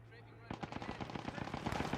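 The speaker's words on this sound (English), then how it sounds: "Strafe run coming in." Aircraft strafing run in the Post Scriptum Market Garden battle game: a rapid, dense burst of machine-gun fire kicks in abruptly after a quiet moment and keeps rattling loudly to the end.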